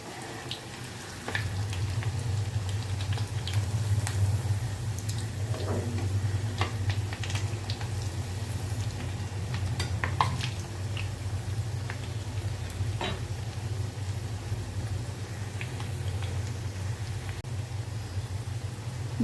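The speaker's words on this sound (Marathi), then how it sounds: "दुसऱ्या बाजूने सुद्धा आपल्याला चांगलेसे खरपूस फ्राय करून घ्यायचे आहेत." Crispy poha medu vadas frying in hot oil after being flipped, a steady bubbling sizzle with scattered faint ticks and clicks throughout.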